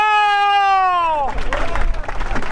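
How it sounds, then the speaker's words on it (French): A long sustained tone gives way to a burst of crowd noise in a sports hall, applause and cheering filling the last second. "Sous vos applaudissements!"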